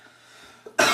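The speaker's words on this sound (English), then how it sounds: "I coughed on my arm." A single short cough bursts out at the very end after near silence, close to the listener.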